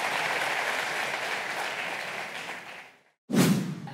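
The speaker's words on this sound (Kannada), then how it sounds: "ಚಪ್ಪಾಳೆಗಳು ಇನ್ನಷ್ಟು ಬರಲಿ" Audience applause at the Asamanya Kannadiga Awards 2015 ceremony, a dense, steady wash of clapping that fades out, then a brief loud burst of clapping returns after a short gap.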